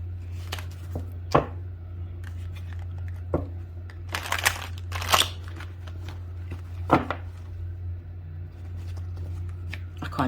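A deck of tarot cards is shuffled at close range in quiet, uneven bursts of riffling and soft slaps, with a steady low hum underneath and scattered clicks between handfuls.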